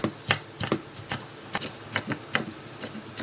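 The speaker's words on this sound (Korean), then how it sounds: "너무 가늘게도 안 하고 그냥 보통 중간 채로 썰어 주세요" A knife cuts vegetables into medium julienne strips on a board for japchae, each stroke a crisp, close tap in a steady, fairly quick rhythm of about nine cuts with no talking.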